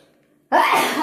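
A single abrupt, loud sneeze bursts out after a moment of near silence indoors, in a home kitchen where chocolate cupcakes with nuts are being made.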